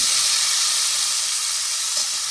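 Potatoes drop into hot oil in a wok (kadai) and fry with a steady, loud broadband sizzle that fills the whole short stretch without letup, close and constant.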